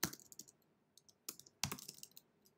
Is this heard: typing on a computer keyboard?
yes